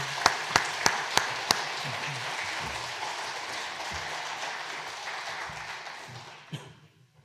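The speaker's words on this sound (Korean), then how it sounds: "나오실 때 박수로 크게 환영하겠습니다" A crowd applauds at a church seminar in a steady wash of clapping that lasts several seconds, with a few sharp claps at the start and fading toward the end.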